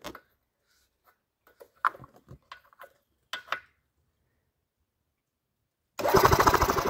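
An EZGO golf cart engine that is badly down on power cranks over with both spark plugs removed. After scattered quiet clicks and taps, a loud, fast, rhythmic churning starts abruptly near the end.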